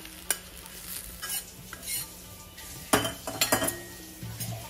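A spoon scrapes and clinks in a pan while fried onion is lifted out, several sharp metallic scoops and knocks over a faint sizzle, close and uneven.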